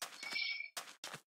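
A Minecraft sheep bleats several times in close, short bursts, the first call overlapping a brief ringing ding, then two quick separate bleats after a pause, fairly faint and with no talk.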